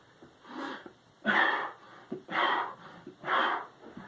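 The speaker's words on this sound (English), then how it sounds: "So I'll do a few reps, and you can hear it in my breathing." Heavy, forceful breaths during push-ups come in a steady rhythm, four loud exhalations roughly a second apart, close and exaggerated, with quieter inhales between them.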